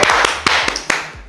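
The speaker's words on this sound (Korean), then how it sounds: "자, 박수 한번 주세요." A small group claps to welcome a guest on stage, sharp close claps in a quick uneven rhythm that rise and fall over about a second, with no one talking.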